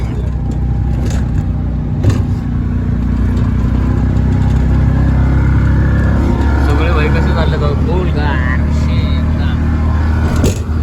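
A loud auto rickshaw engine drones and rattles steadily throughout the ride, a low-pitched motor hum with clattering body vibration up close, while people talk over it.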